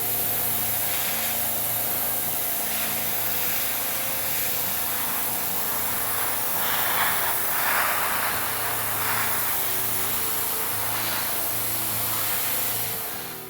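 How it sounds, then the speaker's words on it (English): Spray can priming a Star Destroyer model kit, a long steady hiss of aerosol with a faint background hum. "Do a couple of test sprays real quick."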